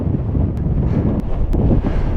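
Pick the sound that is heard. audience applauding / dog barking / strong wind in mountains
strong wind in mountains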